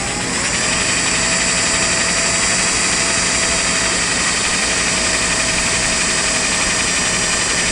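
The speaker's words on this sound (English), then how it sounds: "I'm going to drill a hole" A loud, steady high-pitched motor whine runs without a break as a power drill drills a hole in a wooden rocking chair close by.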